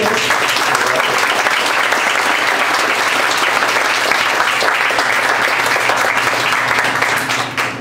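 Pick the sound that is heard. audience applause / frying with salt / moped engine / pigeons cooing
audience applause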